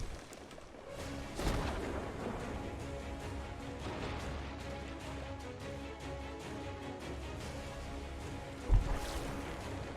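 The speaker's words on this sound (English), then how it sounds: "Oh, we've got some fire coming in here from this skeleton ship" Cannon fire from a skeleton ship in a pirate video game, booming low and continuous across the scene with a sharp heavy blast near the end over a dense rumbling, watery backdrop.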